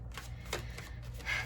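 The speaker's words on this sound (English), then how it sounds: "I'm going to shuffle up your cards" Tarot cards shuffled by hand in a short, soft burst of papery riffling and flicking, fairly quiet and close, with no talking.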